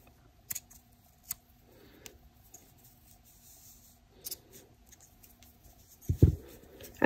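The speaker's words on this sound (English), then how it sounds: "I think I'm going to cut out this little center flower" Scissors cutting a small paper flower out of a coffee filter, heard as a few sparse, soft snips and rustles in a quiet room, then louder handling at the end.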